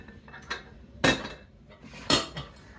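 Pieces of a two-person camping cookware kit knock together, pots and metal lids clinking in a few loud, close clanks at uneven intervals, with no speech.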